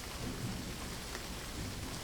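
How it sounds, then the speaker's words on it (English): Rain strikes a window in a dense, steady hiss of drops, close and constant, with a low rumble underneath and no voices. "Rain strikes the window."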